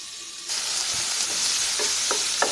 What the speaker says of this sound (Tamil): கொஞ்சம் ஃப்ரை ஆகட்டும். நடுவில் கிளறி விட்டுருங்க.